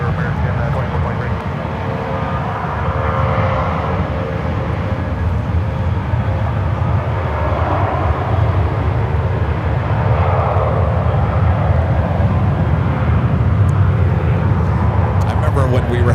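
Jet aircraft at San Francisco SFO airport roar in a steady, loud, broadband rumble that holds without pause from start to finish, with no talk audible over it.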